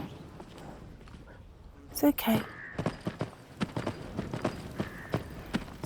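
Hollow clip-clop horse hoofbeats in the video game Skyrim VR, a steady walking rhythm, close and fairly loud, with a brief sharp burst partway through and a voice speaking briefly over it.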